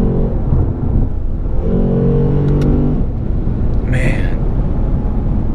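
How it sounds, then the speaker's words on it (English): A 2018 Lexus RC-F engine bounces off its rev limiter, a steady, loud mechanical drone with brief pitch stutters beneath a voice as he talks from inside the car. "this thing will just bounce off the red line"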